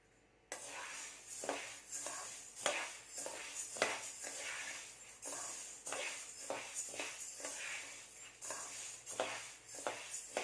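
Whole moong dal dry-roasted in a pan, with repeated scraping and stirring strokes of a spatula against the metal and grains shuffling, in an irregular rhythm of close, moderately loud scrapes with no talk.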